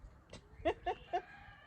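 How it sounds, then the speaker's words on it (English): Guinea fowl call in a short run of three sharp, raspy calls a short distance away, with a fainter call just before them and a quiet background. "That's the Guineas. They got a lot to say."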